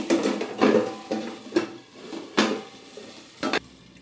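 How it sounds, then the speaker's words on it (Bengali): Metal lid set onto a cooking pan while making palm sarucakli pitha, several distinct clanks and clatters spaced about a second apart, close and fairly sharp, no talking. "আবার ঢাকা দিয়ে দেবো।"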